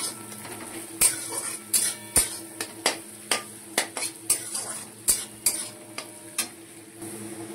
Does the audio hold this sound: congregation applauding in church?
no